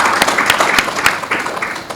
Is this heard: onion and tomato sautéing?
no